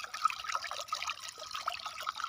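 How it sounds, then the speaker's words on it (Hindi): Water flows into an irrigation channel in a field with a soft, steady trickle and light splashing, close and fairly quiet, alone with no voices. "देखो वहाँ से पानी यहाँ पर आ रहा है"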